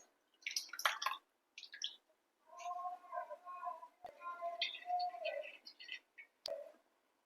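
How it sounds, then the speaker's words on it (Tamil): Soaked tamarind strained by hand, with soft wet squishing, liquid trickles and a few distinct drips, quiet and close. "நம்ம புளியை வடிகட்டி எடுத்துக்கலாம்."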